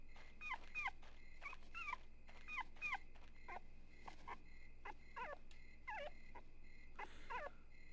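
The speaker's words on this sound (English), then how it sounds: "she heard a dog's bark" Dog sounds from the video game Rule of Rose come as a series of short yipping, whimpering barks in quick clusters, fairly clear over a quiet droning game background.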